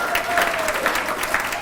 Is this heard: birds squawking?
no